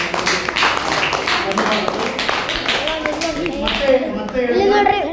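Loud clapping from a gathered crowd at a public talk, a dense burst of many hands close and steady, fading while a voice begins speaking over the end.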